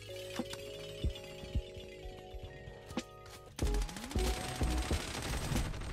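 M4 rifle gunfire in the mobile shooter Project Bloodstrike: sharp game shots, scattered single cracks early, then a dense, loud automatic burst in the last couple of seconds over layered game effects.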